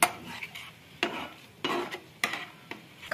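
Chili garlic momos tossed in tomato sauce in a pan, a series of five or six wet scraping shakes about half a second apart, close and fairly loud.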